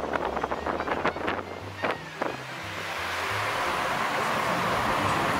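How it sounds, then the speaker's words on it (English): Fans blowing in the Seven Dwarfs Mine Train queue line at Magic Kingdom: a steady, broad airy whoosh that builds and then holds constant, with some brief clatter and movement noise in the first seconds. "The fans are already blowing in the queue line"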